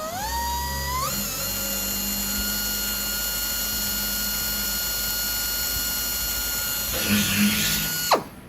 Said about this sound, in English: And then drilled out those holes.